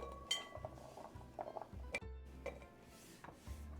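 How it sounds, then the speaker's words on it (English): Chopped vegetables dropped into a big bowl, with light clinks and knocks of utensils and dishes in a quiet kitchen, a few close, scattered taps over about four seconds. "I'm gonna put them into my bowl"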